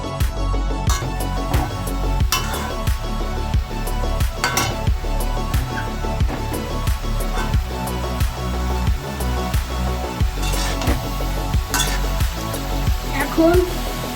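A spoon scrapes and taps steadily against a pan while chunks of jackfruit are stirred and fried, a regular clinking rhythm under a faint sizzle, with a person talking throughout.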